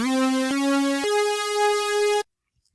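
A bright, buzzy distorted synth lead plays three sustained notes, each stepping higher, loud and upfront, then cuts off abruptly into silence.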